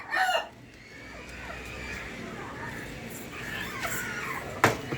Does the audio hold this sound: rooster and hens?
yes